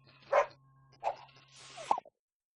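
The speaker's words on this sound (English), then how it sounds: "We always thought Elderflower the cow was barking." A cartoonish cow character in LittleBigPlanet gives short dog-like barks and yips, three separate bursts spaced apart, the last a quick stuttering yelp before silence, with a faint steady hum underneath.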